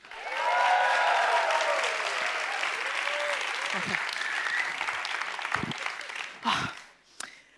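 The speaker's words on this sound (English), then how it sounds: "please welcome to the stage with the biggest possible round of applause" Audience at a TEDx event at Wageningen University applauds loudly to welcome the host on stage, a sustained burst of clapping and some cheers that fades out near the end.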